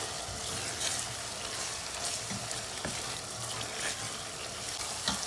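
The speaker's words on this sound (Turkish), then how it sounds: "Biraz da salçayla beraber kavurma işlemine devam ediyorum." Onion, meat and tomato paste sautéing in a pan, a steady close sizzle and fry with bursts of stirring scrapes throughout.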